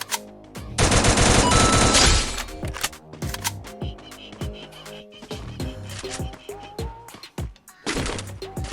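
Rapid automatic gunfire from a video game shooter, a long loud burst followed by scattered shorter volleys and single shots, with someone talking excitedly over parts of it.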